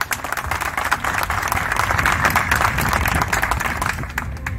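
Loud, sustained applause from an audience at a municipal public event, dense overlapping claps rattling on steadily for several seconds with a faint crowd murmur and no clear speech over it.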